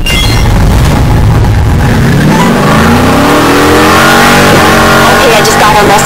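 A 1965 Ford Mustang engine in the Need for Speed Heat racing game, a loud continuous drone that rises in pitch as the car accelerates, with talk running over it throughout.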